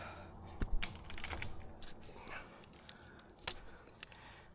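Snipping the tracer string on a fibre-to-the-home cable drop at a mainline intercept: a few sharp, close cutting clicks at intervals over faint handling noise.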